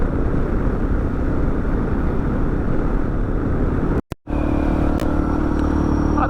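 Steady Suzuki DR650 dual-sport motorcycle engine drone at constant speed in fourth gear around 85–90 km/h, with wind rush, briefly cut by a sharp dropout before resuming with a slightly different tone.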